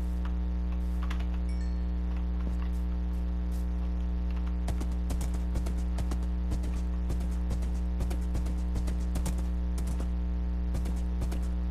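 Horse hooves clip-clop in Minecraft: a steady run of crisp, evenly paced taps, near and clear over a constant low electrical hum, with no talking.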